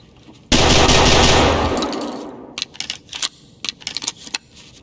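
Automatic gunfire from a video game gun rips out in a loud sustained burst that tails off, followed by scattered short bursts and single shots.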